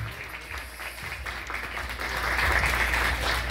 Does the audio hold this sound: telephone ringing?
no